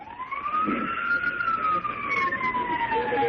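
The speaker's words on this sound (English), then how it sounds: "We'd like to give you guys a siren shout-out." A single wailing siren sweeps slowly up and down in pitch, loud and continuous, with faint background rumble beneath it, heard on a radio show.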